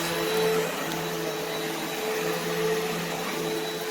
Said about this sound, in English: This is the best vacuum we've ever owned.